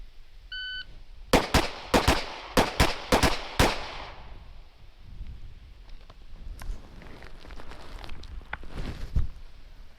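A shot timer beeps, then about eight sharp, loud gunshots ring out in quick succession during a shooting card drill, followed by quieter scattered shots and range noise.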